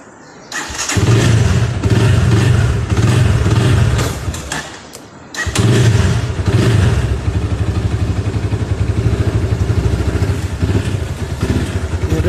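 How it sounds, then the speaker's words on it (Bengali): A Chinese GP 150cc sports motorcycle roars close by as it rides off. The loud engine drone dips briefly, then returns to a steady, throaty run. "এই হচ্ছে আমার চাইনিজ জিপি স্পোর্টস বাইক দেড়শো সিসি"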